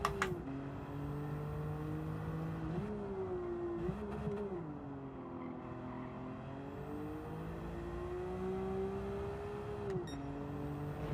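A Nissan R32 in Gran Turismo laps Trial Mountain, its engine drone rising and falling through gear changes and throttle lifts, steady and alone with no talk.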